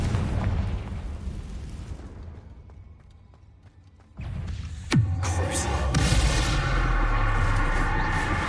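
A Confringo spell blast in the video game Hogwarts Legacy hits with a sudden booming impact after a quieter, sparse stretch. A sharp, high zap follows it, and a loud, sustained crackling roar carries on after.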